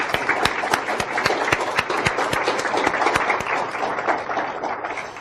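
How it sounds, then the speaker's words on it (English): Audience applause for the speakers at a Medicaid data forum, a dense, steady round of many hands clapping close by, carrying on alone without voices for the whole stretch. "please a round of applause for our speakers"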